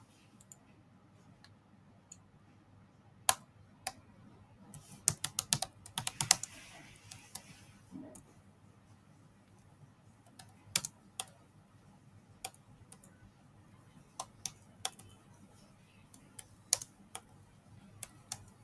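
Typing on a computer keyboard, with sparse, irregular clicks and short bursts of keystrokes at moderate distance over quiet room tone.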